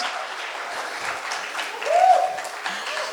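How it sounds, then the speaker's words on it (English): An audience at a keynote claps in steady, moderate applause, with a brief voice or cheer rising over the clapping midway through. "Round of applause."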